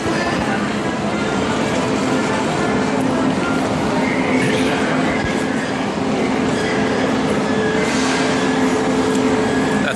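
A European high-speed bullet train rides its rails, heard from inside as a loud, continuous rumble and roar with faint rhythmic wheel clatter and occasional squeals throughout.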